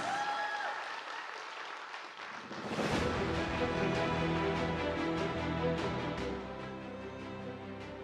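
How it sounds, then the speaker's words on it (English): Applause swells from a room full of people at a keynote talk after a brief quiet moment of music, then continues steadily and loudly before easing slightly toward the end. "A bigger round of applause"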